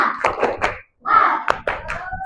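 An elementary class does a 'tepuk semangat' rhythmic clapping chant, with bursts of sharp claps alongside chanting voices, a short pause, then a second round of claps and voices.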